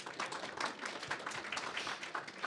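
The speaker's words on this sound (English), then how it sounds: "So a round of applause for Patrick." Audience applause at a SpaceX CRS-19 briefing at Kennedy Space Center: a steady, dense patter of many hands clapping at moderate level through the whole stretch, with no voices standing out.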